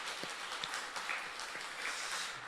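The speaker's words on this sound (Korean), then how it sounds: "우리 박수 한번 할까요?" Church congregation applauding during a Sunday service announcement, soft scattered clapping heard from a distance at a low, fairly even level.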